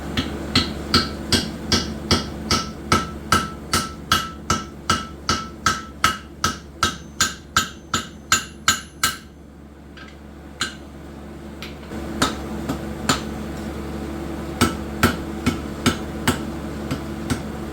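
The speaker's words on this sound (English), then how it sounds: "cut it all the way, almost all the way through, and then hammer it in" A blacksmith's hammer strikes a forged nail over a cut-off hardy set in an anvil, about twenty fast ringing metallic blows in steady rhythm, a short pause, then a few slower, spaced strikes.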